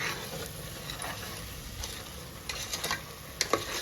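Mutton curry masala in a pan gives off a soft, steady sizzle with light scraping and stirring taps toward the end.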